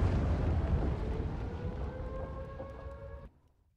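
A low, rumbling explosion from an artillery shell striking a tank in World of Tanks, a heavy boom decaying over a few seconds before cutting off abruptly.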